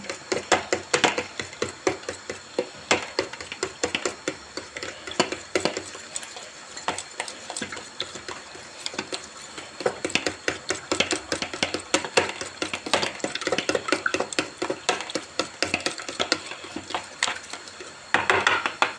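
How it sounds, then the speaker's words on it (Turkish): Eggs whisked in a bowl for spicy Turkish menemen, a quick continuous run of bright clinking taps of utensil against the bowl, close and fairly steady for nearly twenty seconds with brief pauses, no talking. "Yumurtalarımızı da güzelce çırpalım."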